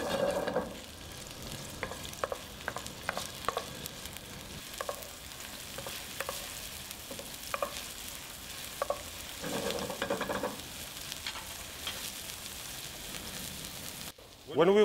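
Onion being stirred and fried in a pan for a tuna and tomato pasta, a continuous close sizzle broken by repeated light scraping taps from the stirring utensil, with no talking.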